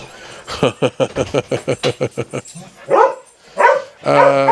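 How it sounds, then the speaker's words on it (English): A dog barks in a fast, steady run of about a dozen sharp barks, then gives a few louder, drawn-out yelps and whines, close and clear with nothing else over it. "It's almost like the dog is all riled up."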